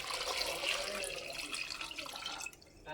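Water poured into a cooking pot in a home kitchen, a steady splashing and trickling stream heard close up that tapers off near the end, with no talk over it.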